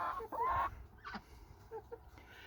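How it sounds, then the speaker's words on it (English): Chickens cluck and squawk softly on a family farm at evening, a few brief, close calls scattered over a quiet background. "Chickens and the pigs been fed."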